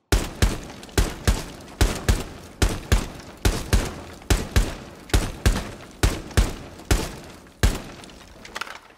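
Repeated gunshots striking a barricade in a video game, about nineteen sharp impacts with a shattering, breaking edge, fired at a steady pace of roughly two per second, loud and close with no talking.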